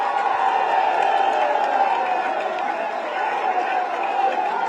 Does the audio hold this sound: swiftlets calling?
no